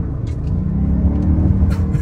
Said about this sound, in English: there is fake pumped in noise. It's a four cylinder engine.